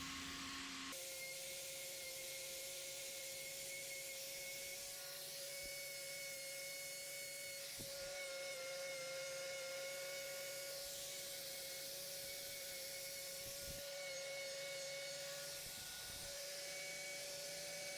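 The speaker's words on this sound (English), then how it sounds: "with a few swipes of the grinder, that infection shows itself" A handheld grinder trims an infected cow's hoof with a steady high-pitched whine that holds throughout, broken by a few brief scraping bursts from its swipes against the hoof; no one speaks.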